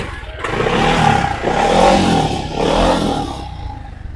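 A Yamaha Aerox scooter, one with a faulty body ground cable, revving in a workshop, its engine surging up and easing back in three close, loud swells before dropping away.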